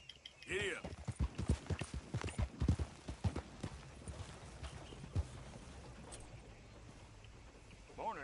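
Horse hooves clip-clopping in the video game Red Dead Redemption 2: a quick, rhythmic run of hoof strikes that fades after a few seconds, with a voice briefly heard.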